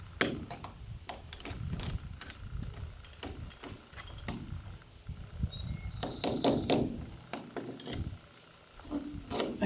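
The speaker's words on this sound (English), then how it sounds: "you can loosen this nut up" A wrench loosening a nut on a threaded stud, with irregular metallic clicks, scrapes and ratcheting taps of varying loudness, close by and without talk.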